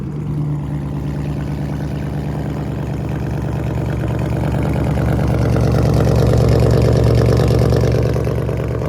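A cold start of an SRT Jeep fitted with catless mid pipes: a loud, steady, deep engine rumble with a strong low hum that grows slightly fuller and louder toward the end.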